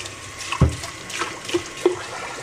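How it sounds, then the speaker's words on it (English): Water runs and splashes at a sink while a soy milk maker part is scrubbed with a scrubber and soap, giving a few brief knocks and swishes close by. "I also wash this with soap and water, and I use my scrubber"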